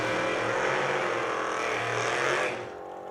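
A 1963 Chevy drag race car roars down the racetrack at a drag racing nationals event, a loud, sustained engine blast heard from a distance that cuts away sharply near the end.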